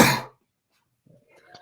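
A single close, harsh cough at the start, followed by near silence and a faint murmur of a voice.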